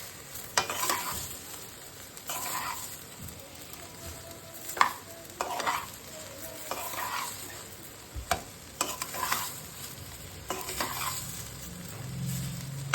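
A spoon repeatedly scrapes and turns fried rice and chickpeas in a hot pan, irregular stirring strokes over a faint continuous sizzle, close and fairly quiet with no talking.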